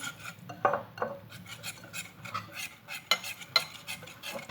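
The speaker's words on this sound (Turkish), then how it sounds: "Şimdi bir güzel karıştırıyoruz." Apple cookie dough being stirred in a bowl, heard as soft, uneven scraping and tapping strokes that are fairly quiet and close, with no voices.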